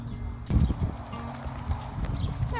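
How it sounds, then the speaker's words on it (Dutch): Horses being led out to a pasture, their hooves clip-clopping in an uneven walking rhythm at close range, with low background noise and a faint voice. "Maar de meeste paarden komen eraan."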